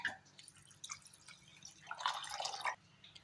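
Water poured into a rice mixture for cooking, a soft trickling and dripping that swells into a fuller splashing pour near the end, heard close and alone.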